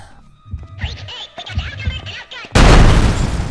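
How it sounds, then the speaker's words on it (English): Someone talks briefly, then a loud, close video game explosion from the game Manhunt bursts in and roars on, booming and crackling until the end. "can set off a chain reaction of explosions"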